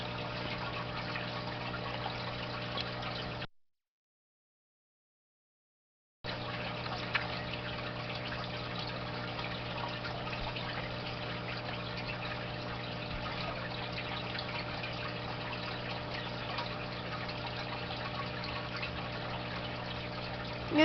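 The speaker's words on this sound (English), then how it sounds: "Waiting for the filter to finish filtering everything out." Steady trickling and pumping water from an aquarium filter running in a new goldfish tank, a constant close hum and burble with a brief cut of silence early on.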